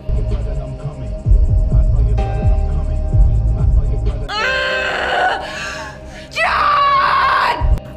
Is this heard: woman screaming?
yes